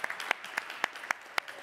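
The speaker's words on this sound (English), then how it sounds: "Applause from Bonn." A handful of scattered hand claps from a small audience at a virtual demo day, about six sharp, separate claps over a short stretch, faint and fairly close, with no talking.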